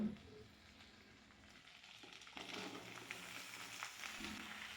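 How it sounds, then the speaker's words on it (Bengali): Mixed vegetables with prawns fry in a pan for a cabbage chorchori, a soft steady sizzle that grows a little louder partway through, with occasional faint stirring. "এরপর সবজিগুলোকে আমি ভাজতে থাকবো চার থেকে পাঁচ মিনিট"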